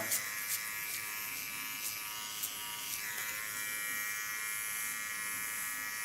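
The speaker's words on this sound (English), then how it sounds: "Dit is dus mijn small clipper of Kione." A small Kione hair clipper buzzes steadily and faintly close by while cutting hair in a salon, a constant thin motor whine with a few soft clicks and snips and no talking.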